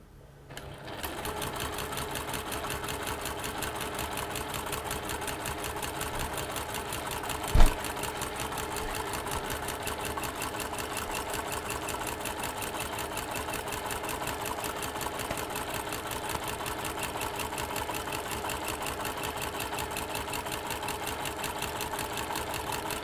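A sewing machine stitches steadily around a fabric panel, running in an even, close mechanical whir for over twenty seconds with one brief knock partway through and no talking.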